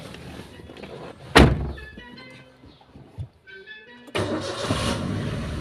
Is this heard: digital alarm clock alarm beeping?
no